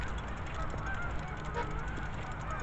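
Geese fly past unseen at night in South Staffordshire, honking repeatedly and faintly over a steady low rumble.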